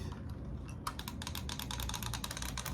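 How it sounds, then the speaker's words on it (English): The bumpers and triggers of an RG43H PRO retro handheld are pressed in a quick, irregular run of crisp plastic clicks, close and fairly quiet, starting after a short pause. "One thing I noticed right off the bat is how clicky the bumpers and the triggers is."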